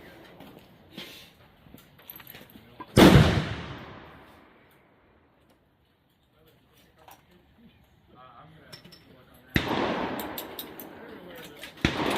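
A 30-30 rifle loaded with BLC-2 powder and 130-grain Barnes TTSX bullets fires one loud, sharp shot at close range, and the blast rings out and decays over a second or two. A second loud noise comes near the end, and quiet speech is faintly audible in between.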